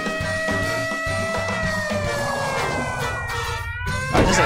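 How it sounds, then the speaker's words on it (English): A car siren in the PS2 game Disney Pixar Cars wails close and loud, with its steady rising and falling tones sustained over a pulsing engine rumble and no talking. "That had a bit of siren on."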